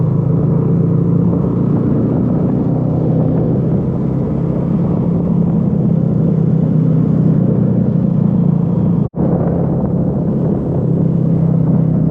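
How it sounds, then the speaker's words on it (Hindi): Road traffic on the main road back to Islamabad, heard as steady loud engine and road rumble while riding a TRK 251, with one sharp momentary dropout near the end. "पाँच बजने वाले थे और अब ट्रैफिक बढ़ता हुआ महसूस हो रहा था।"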